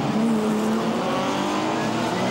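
An old club race car screams past while running in second place, a loud sustained engine roar with a faint shifting whine, close to the track, with commentary speech faintly underneath.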